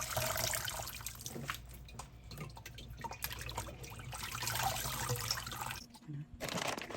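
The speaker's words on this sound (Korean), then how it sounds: "잘 절여진 배추를 2번 정도 씻어주세요" Salted napa cabbage rinsed in water for mulkimchi, a steady close splashing and trickling with sloshing and dripping throughout and a brief pause near the end.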